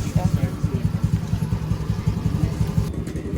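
A motorcycle engine sputters close by on kickstart with rapid, uneven thumping pulses, struggling to catch and run steadily.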